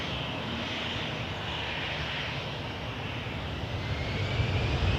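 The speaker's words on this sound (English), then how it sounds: "headed to Edmonton on a 320. This is Air Canada 2075." An Air Canada Airbus A320 airliner passes at Toronto Pearson Airport, with a steady, loud jet engine roar that swells slightly toward the end and holds throughout with no speech.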